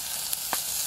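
Wagyu beef sizzles in an iron pan at a campsite on Doi Mae Salong in Chiang Rai, a loud steady hiss close by with a couple of brief soft pops. No voices are heard.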